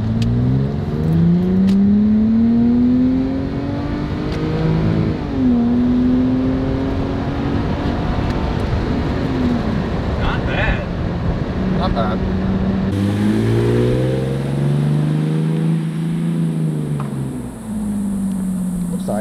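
A 1998 Lexus GS300 with a modified exhaust revving repeatedly, its engine tone rising and falling in loud close sweeps, with people talking over it.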